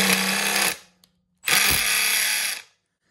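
A stubby impact wrench fitted with a GearWrench 13 Bolt Biter impact socket hammers in two loud close bursts of rapid rattling impacts, separated by a short pause.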